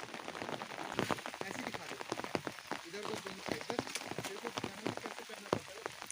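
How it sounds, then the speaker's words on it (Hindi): Rain patters densely on a nearby surface in mountain forest during the rainy season, with many close, irregular drops forming a steady wet clatter. "अभी बरसात का मौसम है"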